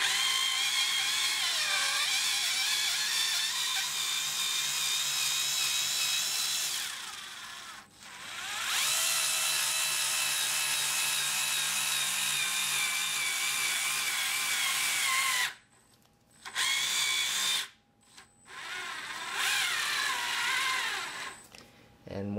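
Black & Decker Gyro electric screwdriver driving a Phillips screw, a close, steady high-pitched motor whine running for long stretches, then briefly cutting out and restarting in short bursts near the end.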